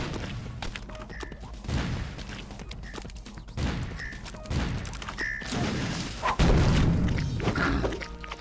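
Rockets in the Super Meat Boy video game fire and explode as a string of booming thuds and crashes, several blasts spread across the stretch with small high pings between them.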